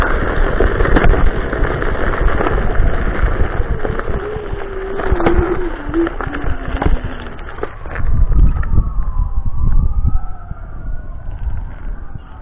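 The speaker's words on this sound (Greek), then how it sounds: "πατάω το μισό γκάζι περίπου, γιατί θα πάω να πάω πιο γρήγορα" A vehicle engine at about half throttle straining up a steep hill over very rough ground, a loud continuous roar with rattling and clunks, the pitch wavering toward the end.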